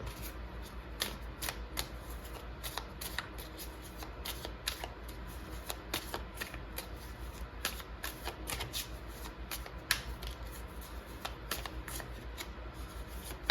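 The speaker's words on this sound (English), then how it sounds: "Let's pull some cards." Tarot cards shuffled by hand for a card reading, a steady rapid riffling and flicking that runs without a break, close and clear, with no talking.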